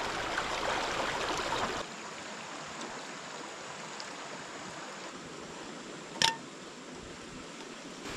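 A mountain river stream flows outdoors at a wild motocamping site, a steady broadband rush of water, louder in the first two seconds then settling into a continuous wash, with one brief sharp click near the end.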